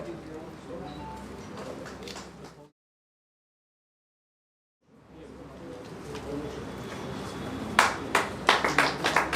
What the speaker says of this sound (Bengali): সবাই হাততালি দিয়ে একটু।